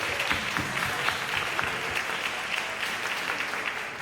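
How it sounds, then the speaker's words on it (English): Steady, dense applause from a conference audience after a team Q&A panel at SXSW 2022, holding at an even level for the whole stretch with no break. "give the team a round of applause."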